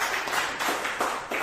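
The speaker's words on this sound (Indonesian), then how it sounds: "Wih, tepuk tangan. Tepuk tangan." A small audience claps together with a quick, even rhythm of repeated bursts. The clapping is moderately loud and fairly brief, heard at a product presentation for a 5-in-1 health coffee.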